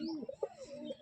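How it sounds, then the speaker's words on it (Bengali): A restless single male pigeon held in the hand gives soft, throaty coos and burbles, close and fairly loud, in short uneven bursts over about a second. "হাতে ধরে রাখা যাচ্ছে না পায়রা"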